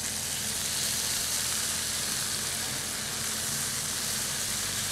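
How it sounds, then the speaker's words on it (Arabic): Chicken marinated with lemon and vinegar fries in a pan with a loud, continuous, even sizzle. Faint stirring is barely audible beneath it, and no one speaks. "هلا نحن بدنا نكمل تقلية الدجاج"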